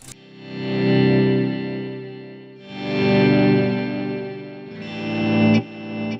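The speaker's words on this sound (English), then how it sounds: "One is a volume pedal that I've connected and set up not to cut off the reverb and delay tail." Electric guitar played through a Kemper Profiler with a volume pedal, reverb and delay, three slow swelling chords that fade in and out while the echo tails ring on between them.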